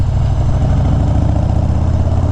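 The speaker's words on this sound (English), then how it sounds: "I do really like the way that this exhaust not only sounds" A motorcycle fitted with an aftermarket exhaust with black pipes and chrome end caps idles with a steady, deep, loud rumble that pulses evenly throughout, heard alone and close by.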